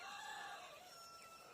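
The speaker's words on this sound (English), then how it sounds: "he's grown up into a lovely rooster" A young rooster among a flock of hens crows once, quiet and somewhat distant, a drawn-out falling call heard alone.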